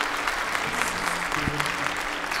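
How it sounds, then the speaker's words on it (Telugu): Applause from an audience at a talk on pendulums, steady dense clapping filling the whole short stretch at moderate loudness with no voices over it. "మరి గట్టి క్లాప్స్ కొట్టేయండి"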